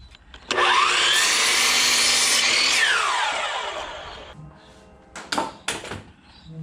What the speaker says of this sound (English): So I'm going to go cut 2 furring strips 5 feet 3 inches long